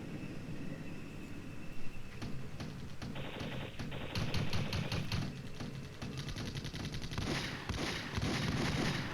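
Infantry gunfire in the wargame Flashpoint Campaigns Red Storm: rapid, irregular crackling bursts and sharp clicks that come and go over a steady rumbling din, with busier stretches midway and near the end.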